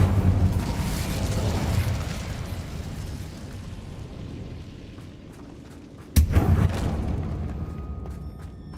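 An Incendio fire spell is cast in the Hogwarts Legacy video game, giving a roaring, rushing blast that fades out, then a sharp second burst that flares loudly and decays into a crackling tail.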